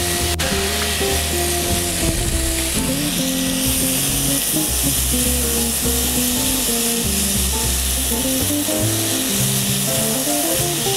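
Chorizo and chicken frying in a pan, a dense continuous sizzle close to the microphone, with steady hissing spatter and a shifting tonal hum underneath, no speech.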